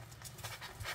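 A puppy panting up close, quick soft breathy huffs repeating in an even rhythm, faint and without speech.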